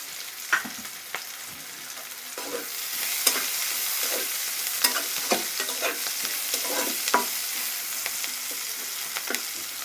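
Onions fry in oil with black cumin for a brinjal curry, a soft continuous sizzle broken by repeated scraping strokes of a spatula stirring the pan at an even rhythm.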